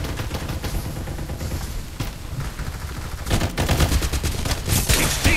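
Rapid gunfire trades back and forth in the mobile shooter Farlight 84 during a team deathmatch on Android, dense and loud throughout, swelling into heavier bursts near the end.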